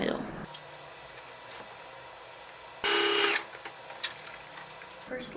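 A sewing machine runs in one short, steady burst of stitching along the folded edge of fabric, fairly close and loud, with quiet handling noises before and after.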